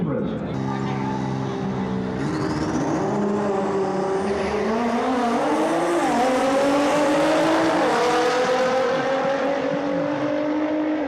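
Toyota A90 Supra race cars idle and rev at the staging lines of a drag strip, a loud, steady engine drone with rising and falling pitch throughout, heard alongside an announcer's voice.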